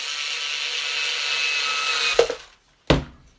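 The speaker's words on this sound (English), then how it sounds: "I can use my electric screwdriver to put them in" An electric screwdriver drives small posi drive screws, a steady whirring motor run ending in a clunk as a screw seats, then a short second burst, loud and close.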